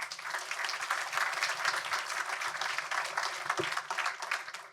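Faint, steady audience applause at a round-table session on building-material reuse, even clapping throughout with a low constant hum beneath it.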